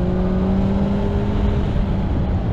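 A 2021 Suzuki Hayabusa motorcycle engine pulls hard in fourth gear, a loud, steady droning roar with a rising tonal whine, heard close from the rider's position over wind noise.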